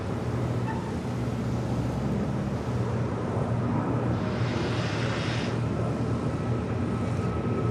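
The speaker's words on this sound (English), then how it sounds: "A330 taking off there on the north side at 24 left" Hawaiian Airlines A330 jet taking off from runway 24 left on the north side of LAX, heard as a distant, steady broadband engine roar with some wind noise and no talk.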